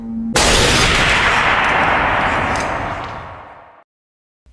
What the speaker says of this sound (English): Squidward takes the shotgun